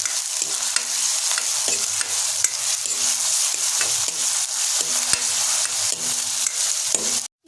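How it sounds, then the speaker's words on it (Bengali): Chopped onions, about 100 grams, fry in hot oil in a wok, a constant close sizzle punctuated by regular scraping and clinking strokes of a spatula stirring them. "এখন আমরা কড়াই গরম তেলের উপরে যোগ করে দেবো 100 গ্রাম পেঁয়াজ কুচি।"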